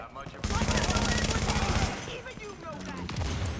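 Rapid automatic gunfire in The Division Resistance video game, a loud sustained burst of fast repeating shots that breaks off, followed by scattered quieter shots and game effects.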